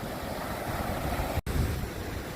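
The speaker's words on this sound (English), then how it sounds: "enjoy this beautiful beach that I'm very, very fortunate to live near" Surf washes onto a beach in a steady, moderately loud broadband rush mixed with some wind, briefly cut by a momentary dropout, with no voices.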